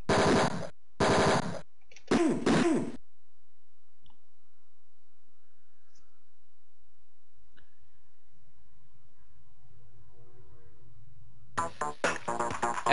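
Rapid bursts of automatic gunfire from the Mean Streets video game, three sharp volleys at the start, then near silence with a low hum, before another burst of shots and clicks at the end.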